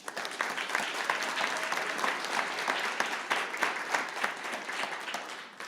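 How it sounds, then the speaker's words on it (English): An audience at a startup pitch competition breaks into full, dense applause that holds steady from start to finish, with a faint murmur of crowd voices mixed in. "Let's give them a round of applause."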